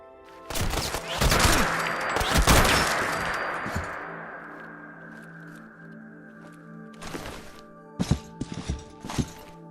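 Gunfire in the video game Fallout 4: a burst of loud close shots and impacts with a ringing decay, a pause, then several more sharp shots toward the end.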